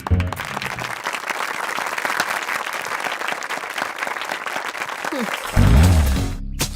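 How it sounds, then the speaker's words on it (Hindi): Applause from NCC students after a safety technique demonstration, a sustained burst of clapping that runs for several seconds, then gives way to a brief louder sound near the end. "तालियां।"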